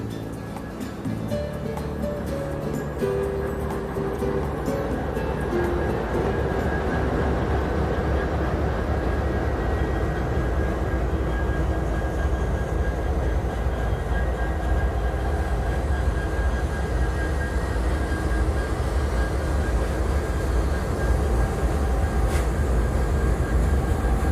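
A Santa Fe railway train rumbles steadily on the mainline at a crew change point, a continuous loud low rolling roar with a faint steady tone above it, no talk.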